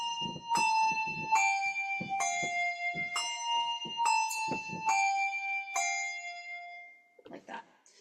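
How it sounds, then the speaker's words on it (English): Handbells rung in a weaving pattern starting with the left hand, clear ringing tones struck in a steady alternating sequence of about eight strokes, each note sustaining and overlapping, with a voice talking underneath and a brief murmur after the ringing stops. "Now let's do it with the other hand, which is starting with the left hand."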